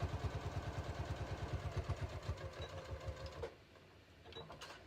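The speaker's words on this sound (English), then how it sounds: "I'm just gonna sew all the way up" A sewing machine stitching yellow twill tape on a shorts waistband, with a fast, even mechanical chatter for about three and a half seconds before it slows and quiets, heard close with no talk.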